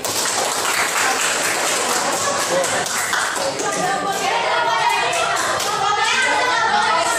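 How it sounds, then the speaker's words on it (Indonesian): Students in a classroom clap their hands after a count of three, a dense, loud burst of applause with children's voices and chatter mixed through it. "silahkan tepuk tangan"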